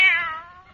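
A kitten gives a single short meow, close and clear, fading over under a second, in an old radio comedy scene.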